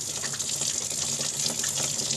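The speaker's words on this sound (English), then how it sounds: "First of all, rinse off the outside, and then I like to just fill it up with water." Tap water runs steadily and loudly over a chicken carcass in a sink, a continuous close splashing stream with no speech.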